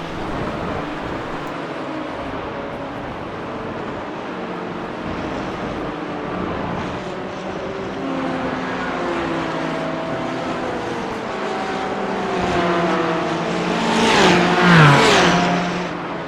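A McLaren GT4 race car overtakes during an IMSA GT4 race at Spa, its engine note rising and growing louder toward the end as it draws alongside, over the steady drone of the in-car engine.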